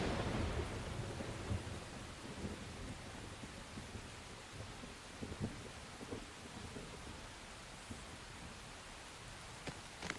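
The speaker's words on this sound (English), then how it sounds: "Rain." Steady heavy rain with rolling thunder in the video game Xenoblade Chronicles X, a dense continuous wash that is loud at first and then settles into a constant downpour, with a few sharper crackles near the end.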